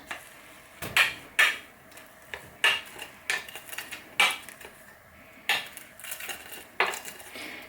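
A utensil scrapes and taps cooked rice out into a pan holding scrambled egg, making a series of sharp metallic knocks and clinks at irregular intervals, close and fairly clear.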